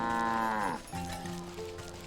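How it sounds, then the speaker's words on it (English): A pig squeals in the video game Wytchwood, heard as a loud, drawn-out harmonic cry that bends downward and fades, followed by softer nasal grunting noises. "You can hear the runty swine squealing even before you see her."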